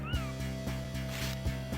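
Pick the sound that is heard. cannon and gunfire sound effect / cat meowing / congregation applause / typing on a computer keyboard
cat meowing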